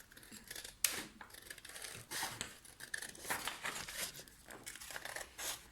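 Scissors snip through paper to cut out a crescent moon shape for a paper flag craft, a run of short close crisp cuts with small pauses, some soft paper rustle between snips.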